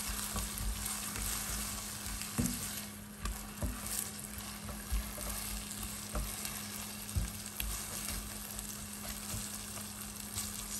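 Okra pieces fry undisturbed in a pot for Nigerian okro soup, a continuous quiet sizzle and crackle with scattered small pops, heard alone without speech.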